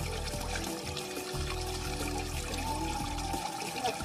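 Spring water pours and trickles steadily on a hilltop at Ayodhya Hill, West Bengal, a continuous close splashing flow with no talk over it.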